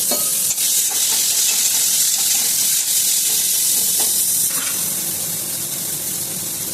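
Chopped onion hitting hot oil for Bengali fish kalia, with bay leaf, dried red chilli and garam masala already tempering: a loud, close, continuous sizzle with stirring scrapes, and no talking.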